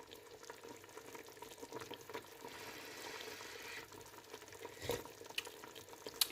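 A Thai chicken dish simmers in a pot, a low steady bubbling with faint stirring scrapes and one brief sharper knock near the end, no talk.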